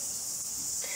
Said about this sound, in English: it's the sound of summer cicadas.